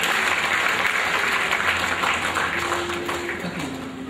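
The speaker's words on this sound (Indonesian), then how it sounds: "Tepuk tangan untuk 14 anak kami." Audience applause fills the space at a Christmas event, dense sustained clapping from a large crowd that holds steady and slowly fades toward the end.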